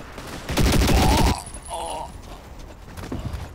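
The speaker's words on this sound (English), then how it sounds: "They're shooting at tower." A burst of dense rapid gunfire from a WWI battle video game, loud for about a second, followed by fainter shots and background game noise.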